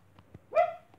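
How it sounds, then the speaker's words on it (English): A dog gives a single sharp bark at close range, one loud burst with no talk over it and only quiet room sound around it. "that's my dog."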